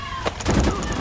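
Gunfire in the mobile shooter game Battle Prime, a brief burst of sharp shots in a short, loud moment with game sounds around it.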